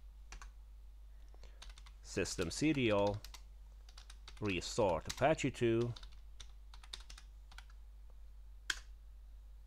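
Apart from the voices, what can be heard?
typing on a computer keyboard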